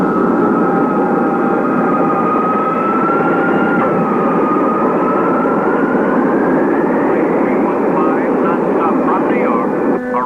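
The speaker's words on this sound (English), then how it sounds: "Oh, that is his plane arriving now." A passenger plane arriving from New York rumbles with a steady, loud engine drone and a sustained whine that slowly shifts pitch, continuous throughout.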